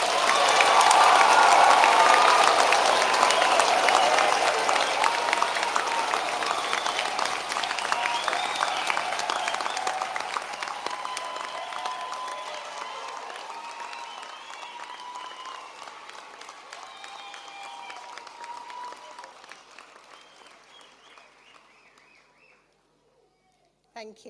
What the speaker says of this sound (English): let's have one final round of applause to congratulate our